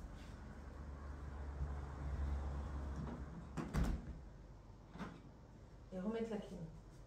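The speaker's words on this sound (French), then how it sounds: "je vais juste fermer la porte" A door is shut inside a house, with a sharp thump partway through, set against low background noise and a few softer knocks and rustles around it.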